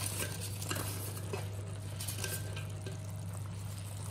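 Fried taro root (arbi) being stirred into a cooked masala in a pan, with steady scraping and stirring scrapes over a low constant hum, close and moderately loud, no voices.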